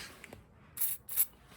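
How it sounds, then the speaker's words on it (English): PB Blaster penetrating oil sprayed onto the hub of a Polaris Sportsman ATV, two short close hissing bursts separated by a brief pause. "spray a little bit of PB Blast or something in there"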